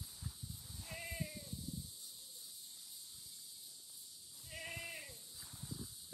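Kiko goats bleat on a farm, two wavering calls spaced a few seconds apart over a faint background of insects and low rustling.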